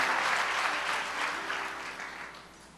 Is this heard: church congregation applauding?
yes